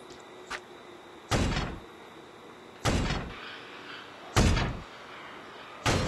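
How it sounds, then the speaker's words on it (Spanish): A door being smashed in the horror game Horrorfield: four heavy, loud thudding blows at roughly one-and-a-half-second intervals, each ringing briefly, with a faint lighter knock before the first. "Voy a romper la puerta."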